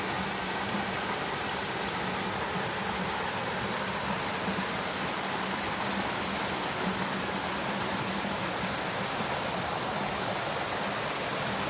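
The Saeng Chan waterfall in Thailand roars steadily and close by, a dense unbroken wash of falling water with no talking.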